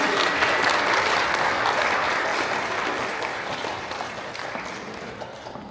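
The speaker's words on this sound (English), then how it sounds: "A big round of applause to the Vice President of NSA, Pinky Joshi." At a university cultural night performance, a crowd in a hall gives a sustained round of applause, thick steady clapping that gradually fades over about six seconds.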